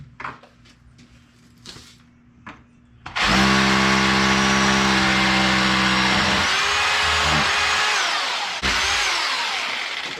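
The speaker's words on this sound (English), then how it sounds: "Put 3, that way I can hold it, and then I just drill right there." A power drill bores into a masonry wall while wire lath is attached, preceded by a few short bursts and then running loud and continuous with a steady whine, briefly dropping before resuming close up.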